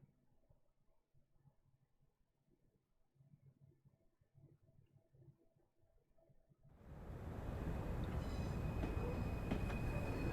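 A train in a simulator game set around Crewe in the steam era: a faint low rumble first, then a loud, steady, close roaring rush of rolling stock for the last third.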